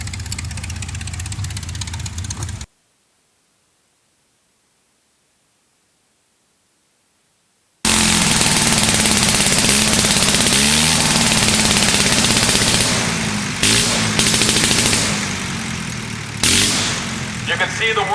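World War 1 fighter plane's rotary engine running at Rhinebeck, New York, a loud, continuous, rough roar heard close by, interrupted by a silent gap of several seconds before resuming with fluctuating intensity.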